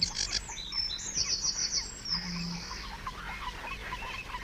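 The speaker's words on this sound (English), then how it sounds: "The varied song of the sedge warbler announces its arrival for the northern summer." Sedge warbler singing in a reed bed, a varied run of chattering, trilling phrases with buzzy notes, fairly near and clear over soft ambient noise.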